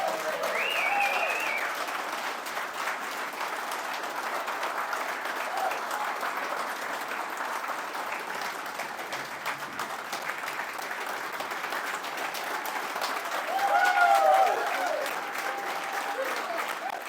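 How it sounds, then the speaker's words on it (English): A large audience claps in a sustained round of applause and standing ovation welcoming home the Offaly hurling team at a GAA anniversary celebration, steady and full throughout with a brief swell near the end. "give our own rousing welcome home to this team, and a round of applause to the Offaly team"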